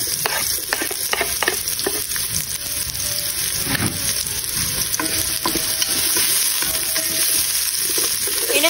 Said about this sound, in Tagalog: Unahin natin igisa ang ating arroz caldo. Unahin natin ang luya at ang sibuyas.